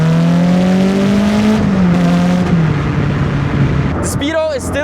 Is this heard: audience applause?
no